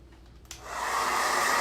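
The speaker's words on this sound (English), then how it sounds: "I know I hate doing the blow dryer, but I really can't move forward if I don't have all of this dried" A blow dryer is used to dry paint on a handmade birth announcement. It switches on after a brief quiet start and quickly rises to a steady, close, airy whoosh that continues to the end.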